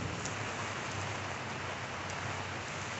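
Rain drums steadily on a huge 72-inch G4FREE umbrella, a dense, even hiss of drops pattering close overhead without letup.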